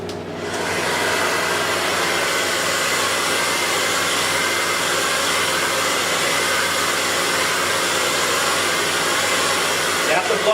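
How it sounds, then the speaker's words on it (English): A hair dryer blows hair dry during a hairstyling session, running as a loud, steady, continuous whoosh from start to finish with no pauses. "So let's get back to blow drying."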